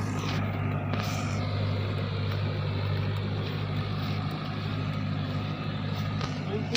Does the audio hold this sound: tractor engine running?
yes